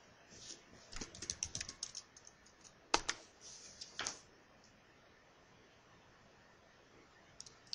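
Typing on a computer keyboard while entering data into a spreadsheet: a quick burst of soft key clicks, then a few louder isolated keystrokes, followed by near silence.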